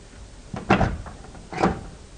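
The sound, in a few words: RV door being opened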